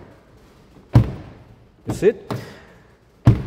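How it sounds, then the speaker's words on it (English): Jaguar XF II car door opening and shutting, heard as several close, solid thuds and clunks spaced across a few seconds, with a brief spoken question from a person nearby. "when we open this door, you will find the sound is not the same as the traditional Jaguar"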